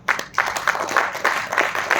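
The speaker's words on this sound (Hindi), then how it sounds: "तालियां कहां?" An audience at a motivational talk on mindset and success breaks into applause, with dense rhythmic clapping that keeps a steady, fairly close wash.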